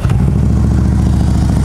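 A Harley-Davidson Road Glide Custom FLTRX motorcycle with about 30,000 miles fires up and settles into a loud, steady, low-pitched idle rumble close by.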